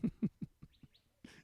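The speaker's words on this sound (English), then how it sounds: "Shut up, bird." A bird calls in a quick series of five or six low, evenly spaced hoots that fade off, followed by a couple of faint chirps and a brief rustle.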